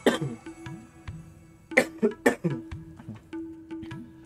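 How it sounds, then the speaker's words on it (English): Several sharp coughs from a player during a Divine Divinity game session, heard in separate bursts over a steady low game hum and background music. "Sorry, coughing."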